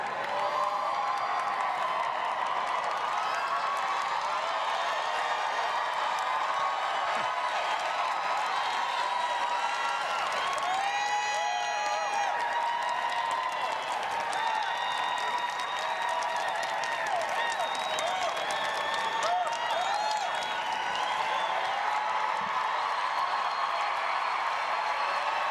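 A large indoor crowd at the 2017 Westminster Dog Show keeps up continuous applause and cheering while the German Shepherd Rumor takes Best in Show. Scattered whoops rise through the steady roar of clapping, and a commentator's voice sits faintly underneath.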